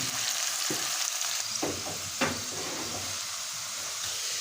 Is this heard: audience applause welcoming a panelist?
no